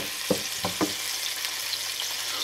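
Onions fry in a pan with a steady soft sizzle while a few quick scraping stirs sound near the start, for a potato and salt cod dish.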